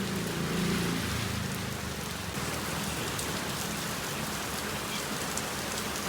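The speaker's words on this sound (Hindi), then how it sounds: "आनंद आ रहा है बारिश को देखने में।" Steady heavy rain falling on surfaces outdoors, a dense continuous patter close by with no voices, lasting throughout.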